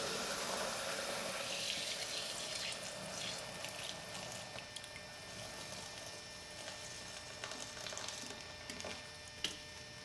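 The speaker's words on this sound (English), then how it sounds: "I'm just going to pour this container into the blue 1 gallon size container through the strainer and pour it off" Kombucha pours through a strainer into a blue one-gallon container, a faint, steady splashing trickle lasting several seconds with soft background noise.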